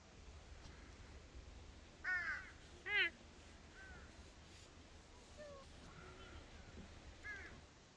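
Distant crows caw a few times, two clearer calls close together followed by fainter ones, over a steady hiss of outdoor ambience on a walking path near Hallasan on Jeju Island.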